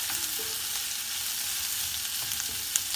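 Onions sautéing in a pan for a sprouts curry give a steady, close sizzle with a few soft scrapes of stirring, continuous throughout with no talking.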